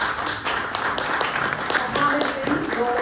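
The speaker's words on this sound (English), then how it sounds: "big round of applause for" Applause from an audience at the launch of the London India Desk, a steady wash of clapping with voices mixed in, continuous and fairly close.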